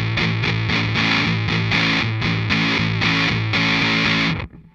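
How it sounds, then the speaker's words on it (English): An electric guitar amp breaks up under a distortion pedal, giving loud, thick, saturated chords struck in a steady rhythm that sustain continuously before cutting off abruptly near the end. "I love how the amp breaks up with this pedal, or the pedal emulates the amp breaking up"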